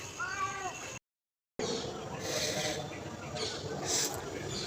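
A cat meows briefly near the start, its rising-falling cry heard up close, followed by a short silence and then scuffling background noise.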